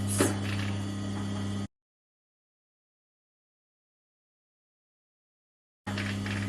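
A sewing machine runs a 6 mm stitch along the armhole of a Pipit vest, a steady mechanical whir with a low hum that cuts off into silence and then starts up again near the end.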